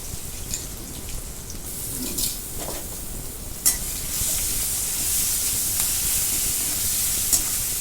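Ginger, garlic and green chili paste frying in a pan, giving a bright, steady hissing sizzle that swells louder midway, with a few soft utensil knocks and no talking.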